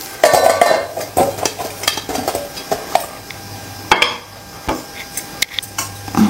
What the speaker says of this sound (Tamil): இப்போ வந்து ஒரு ரவுண்டு பணியாரம் போட்டாச்சு.